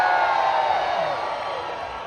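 A packed audience at SeaWorld Orlando cheers loudly for Gene Simmons, a dense, roaring wall of crowd noise that stays strong throughout and eases slightly toward the end.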